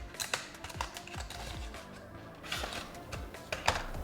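Small Samsung accessory box from Galaxy F23 5G phone packaging being opened: quick close clicks, taps and light cardboard rustles in an irregular run, with no talk.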